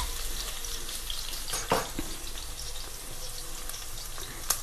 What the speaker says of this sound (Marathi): तेल तापलेलं आहे, तर आता आपण टाकूया थोडंसं लसूण